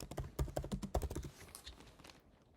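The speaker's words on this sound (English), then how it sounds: "type your query" Quick, light keystrokes on a computer keyboard as a search query is typed, a short burst of clicky taps close up that trails off into near silence.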